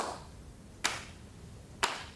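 Two sharp single hand claps about a second apart come from a video playing back in a courtroom, isolated and fairly distinct over a quiet background hum.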